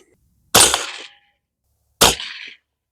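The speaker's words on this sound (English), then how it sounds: "Then I'll fire this one there." Two sharp, loud gunshots crack out about a second and a half apart from a Bear Creek Arsenal .22 Magnum upper rifle at an outdoor range. Each shot has a short ringing decay, with silence between.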